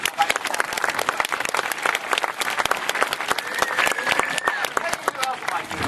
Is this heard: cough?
no